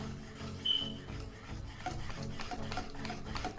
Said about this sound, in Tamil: வார்ம் வாட்டரை கொஞ்சம் கொஞ்சமாக விட்டு மிக்ஸ் பண்ண போகிறேன்